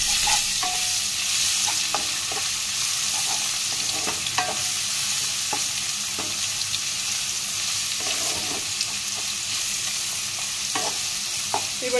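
Garlic frying in a pan with onions already fried red, a steady sizzle with frequent stirring scrapes and clinks throughout, close and fairly loud, no voices.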